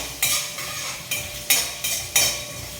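Mustard seeds and chana dal frying in hot oil for kara kozhukattai, a soft background sizzle broken by five sharp metallic spoon strikes against the pan at uneven intervals, close up, no talking.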